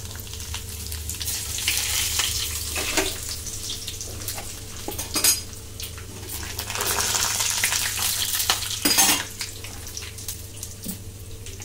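Urad dal, chana dal and dried red chillies fry in oil for a spicy red chutney, producing a constant close sizzle with crackles and a few sharper pops and stirring sounds over the top.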